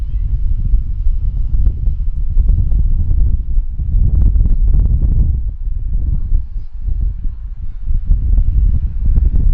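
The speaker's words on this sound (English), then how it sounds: "I'm going to try to give you guys a bit of an understanding of what the wind's like here." Strong, gusty wind buffeting the microphone at Vancouver Airport, a loud low rumble that surges and eases continuously throughout.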